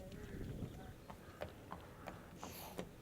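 Racehorses at a Cheltenham training yard clip-clop on hard ground, a few faint, irregular hoof strikes at moderate distance over a low background murmur.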